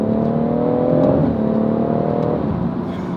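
A BMW M140i pulling hard through a corner, its engine note rising steadily and loud from inside the cabin, then easing slightly toward the end.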